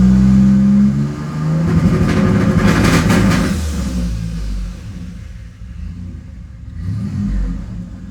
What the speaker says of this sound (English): when I push the clutch in and give it a certain amount of throttle,